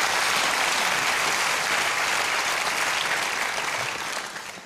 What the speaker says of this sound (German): Mit einem Applaus geht es nach vorne